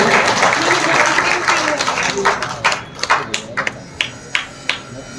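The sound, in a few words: audience clapping during a Bhagavat katha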